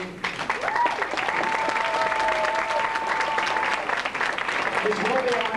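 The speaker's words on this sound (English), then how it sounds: "One last round of applause for this man holding together" Guests at a bowling banquet give a final round of applause, loud and close, with steady crowded clapping throughout and whistles and voices cutting through the clapping.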